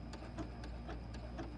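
Sewing machine stitching a ghost appliqué quilt block, a steady quiet run of evenly spaced mechanical stitch ticks over a low motor hum, close and alone.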